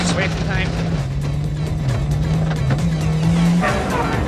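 Fisher Engineering Mitsubishi rally car with clutch trouble on a rally stage, its engine droning loud and steady throughout, the pitch dipping and climbing slightly, with a commentator talking over it.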